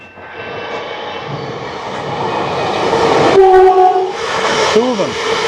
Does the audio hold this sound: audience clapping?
no